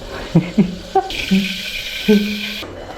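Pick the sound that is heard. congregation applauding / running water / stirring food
running water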